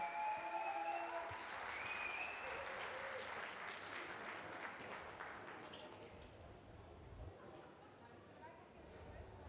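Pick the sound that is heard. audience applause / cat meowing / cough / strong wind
audience applause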